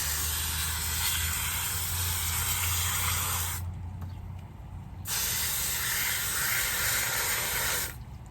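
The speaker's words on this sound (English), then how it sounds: "I'm trying to water it from the bottom. But my hose is kinked up, so I'm having trouble." A garden hose with a kinked line sprays water in a steady loud hiss, cutting off briefly midway before resuming and stopping near the end.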